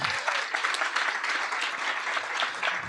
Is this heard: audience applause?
yes